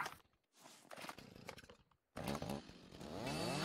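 Chainsaw in the survival game Rising World, a rough buzzing engine that starts up after a brief gap and revs steadily louder, with scattered thumps and rustling just before it.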